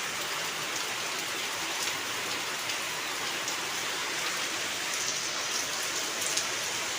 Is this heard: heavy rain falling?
yes